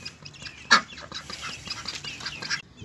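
A flock of ducks quacking at feeding time as they are fed at fixed times, with a mix of close and slightly distant quacks, one sharp quack standing out among the continuous chatter.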